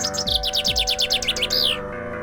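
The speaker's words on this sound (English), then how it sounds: "I pull out the staff of bird calling" A magic bird-calling staff played like a flute gives a quick, bright run of chirping trills that swell to a louder rising call before cutting off, with no voices.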